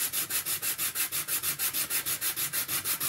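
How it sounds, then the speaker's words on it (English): Rhythmic back-and-forth rasp of 80 grit sandpaper on the wood of a scale model ship, about six strokes per second, close and even throughout. "So I'll give this a good sand and get it down. This is 80 grit"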